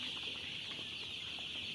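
A crowd of fourteen-day-old Sonali chicken chicks on a farm peeping continuously, a soft high-pitched chirping chorus with no pauses.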